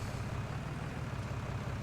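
Tractor pulling a tipper in Farming Simulator 19, a steady low engine drone rumbling continuously and evenly throughout, with no voices over it.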